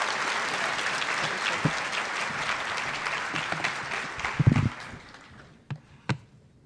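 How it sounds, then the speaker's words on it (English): Audience applause at the AMSA 2012 annual convention, a sustained wash of clapping from a large crowd that gradually thins out, ending in a few scattered single claps and thumps. "Let's give her another round of applause."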